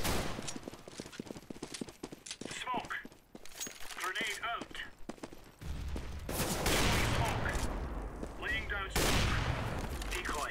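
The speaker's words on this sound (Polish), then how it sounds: "Coś szybko strzela strasznie, wiecie?" Rapid bursts of gunfire from the video game CS:GO play under people talking, the shots crackling in quick strings throughout.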